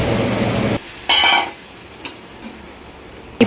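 Buttermilk poured into a sizzling tempering sends up a short, loud burst of hissing after a stretch of frying, then the pan settles to quiet with a few light clinks of a spoon.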